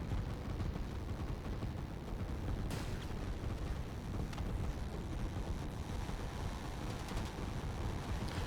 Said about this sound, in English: There's just too many artillery pieces.